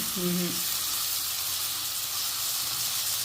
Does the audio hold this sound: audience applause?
no